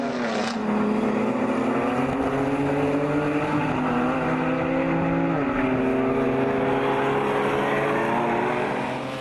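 BMW race cars circulate on a track, several engines blaring together at close range with harmonic pitch shifts as they change gear and pass, a steady loud roar from start to finish.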